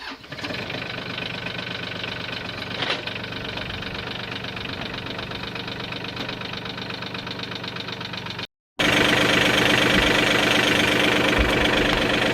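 A backhoe tractor engine runs steadily and loudly throughout with a knocking diesel rumble, briefly cutting out before resuming at a higher, louder level.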